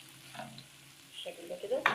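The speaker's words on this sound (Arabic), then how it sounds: "نزلت قرنين فلفل أخضر وأحمر بالشكل ده كده، نديهم تقليبة" Green and red peppers fry in a pan and are stirred, with a soft sizzle under short scraping and shuffling sounds that grow busier toward the end.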